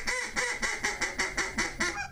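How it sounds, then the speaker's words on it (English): Duck call blown in a steady series of about eight evenly spaced, loud quacks, close and clear with no talk, made by a Pacific Calls waterfowl hunting call from the Northwest. "Whether it's a duck call,"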